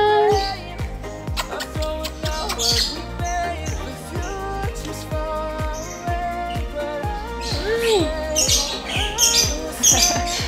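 A white-rumped shama (murai batu), a bred contest bird, calling with rapid varied chirps, whistles and squawks, close and lively over a busy indoor background with faint talking.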